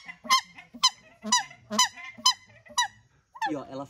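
A captive waterfowl at an aquatic bird farm honks in a rapid series of loud, nasal calls, roughly two per second, while its mate answers from across the enclosure.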